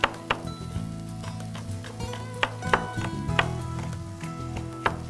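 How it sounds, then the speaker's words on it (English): A knife chops jicama strips on a cutting board, giving a series of sharp, irregular knocks over about five seconds, close and moderately loud, with a low background hum beneath. "We'll just go ahead and chop them up."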